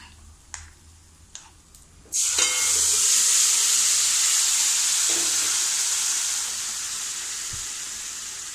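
A few light utensil taps, then a sudden loud, steady hiss as cooked ponnanganni greens are poured into sizzling tempering oil, the frying rush holding close and strong before easing slightly toward the end.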